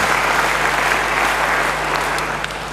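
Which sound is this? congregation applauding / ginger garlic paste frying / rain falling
congregation applauding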